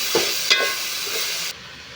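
Sliced brinjal sautéing in a pan for pongal sambar, a steady close hiss and sizzle with a couple of brief stirring clinks, which cuts off abruptly before the end.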